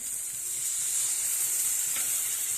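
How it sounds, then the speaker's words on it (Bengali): Tomato and potato fry with garam masala spices in oil, making a steady, even hissing sizzle that fills the whole moment without a break. "মশলার সাথে কিন্তু টমেটো আর আলুটাকে ভালো করে কষিয়ে নেব তেল ছেড়ে দিয়েছে"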